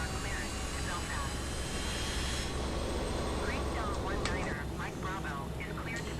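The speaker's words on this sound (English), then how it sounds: "So the engines are starting." BAe 146 jet engines spool up during start in Microsoft Flight Simulator 2020, a continuous loud whine and roar with rising tones, while someone talks over it.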